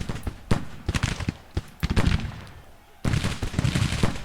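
Volleys of musket and rifle fire crackle through a Civil War battle in Grand Tactician: The Civil War, with dense, overlapping shots at varying distances and a brief lull before the firing swells again.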